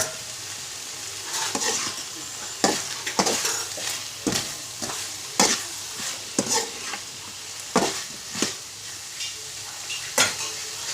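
Vegetables for poriyal sauté with salt in a pan under a constant sizzle, while a spatula scrapes and knocks against the metal in a loose, repeating rhythm.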